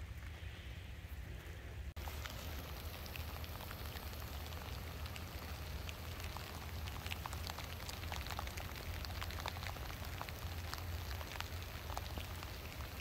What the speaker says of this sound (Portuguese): Chovendo, gente.